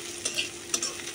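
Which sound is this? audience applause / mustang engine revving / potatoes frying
potatoes frying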